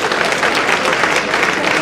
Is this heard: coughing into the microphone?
no